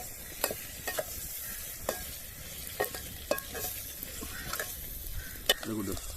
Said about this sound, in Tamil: நல்ல சூரில் வேகிறதுக்காக பொன்னிறமாக வதங்க வைக்கணும்.